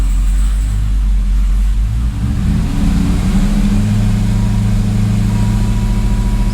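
Hellcat V8 in a swapped Dodge Dakota pickup, a deep, loud engine drone that swells as it revs up through the gears, steady and continuous with no voices.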